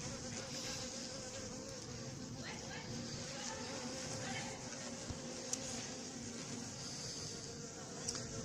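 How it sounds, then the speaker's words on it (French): A hornet buzzes around a bottle trap at an apiary, its steady droning hum continuing throughout at close range, with faint background murmur and small clicks. "il y a un frelon qui vient d'entrer dans la bouteille"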